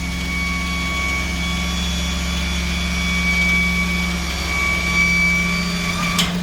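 A 1990 Subaru Sambar kei dump truck's small engine idles steadily and close by with a constant low hum, while the heavy-duty dump bed mechanism operates, ending in a brief sharp clunk.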